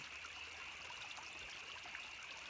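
Creek water flows steadily behind a rural house, a constant broadband rush and trickle that stays even and fairly faint, with no voices.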